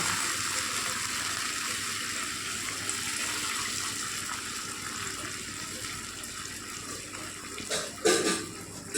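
Water pours steadily from a vessel into a cooking pot for upma, a continuous close splashing fill that runs throughout, then a brief stronger gush near the end, with no talking.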